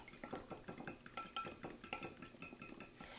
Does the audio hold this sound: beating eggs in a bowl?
yes